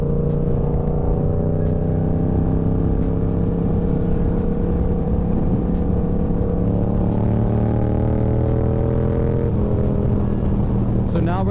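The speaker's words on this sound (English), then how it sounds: "We're in 4th gear right now. I'm gonna go to 5th real quick." A motorcycle cruises steadily in fourth gear with a loud, droning engine under wind rush, then shifts up to fifth without the clutch, the engine note dropping abruptly near the end.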